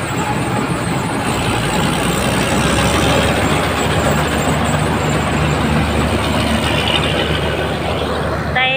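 A tractor engine runs steadily in a rice paddy, a loud continuous rumbling drone that holds at an even level throughout with no break.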